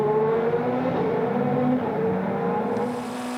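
Endurance race cars, Porsche and Audi prototypes, roar past at the Shanghai circuit, one accelerating hard out of a right-hand corner onto the back straight as another drags alongside, a steady loud engine drone throughout.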